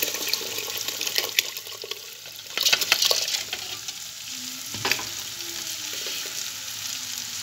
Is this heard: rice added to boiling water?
yes